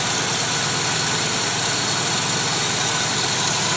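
An Oldsmobile Cutlass Supreme idles steadily after a tune-up with new valve cover and exhaust gaskets, a close, even engine hum with a fine rhythmic pulse and no talking.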